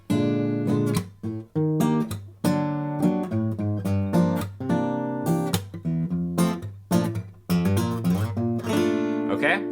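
Keyboard, likely piano, playing a chord progression that slips in an augmented chord, a steady series of struck chords, fairly loud and alone without talk.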